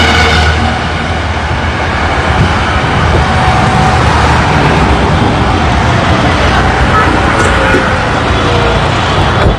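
A petrol car engine runs loud and close, a dense unbroken rumble filling nearly ten seconds, with a voice faintly mixed in.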